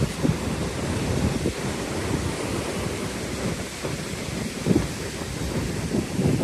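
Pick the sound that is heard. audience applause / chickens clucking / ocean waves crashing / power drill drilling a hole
ocean waves crashing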